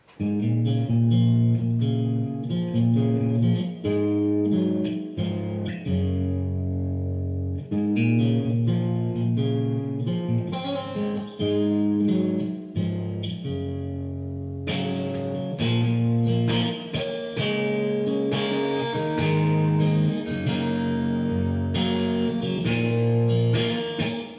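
Electric guitar playing chords and riffs with a wide, washy reverb tail, loud and continuous, with distortion and a brighter, busier section later.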